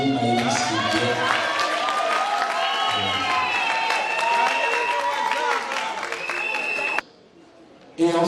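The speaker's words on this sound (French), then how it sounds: "Est-ce qu'on peut applaudir Maëlys qui est bien?" Wedding guests at an official, religious and customary marriage ceremony applaud the bride's arrival, steady clapping running for several seconds under music and voices before cutting off abruptly.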